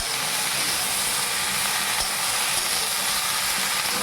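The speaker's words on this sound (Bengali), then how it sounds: "একটু নাড়াচাড়া করে নিচ্ছি এই দেখুন অনেকটা মজে এসেছে" Vegetables and small fish for a Bengali chorchori sizzle loudly in a pan as they are stirred, a dense, even frying hiss that carries on without a break.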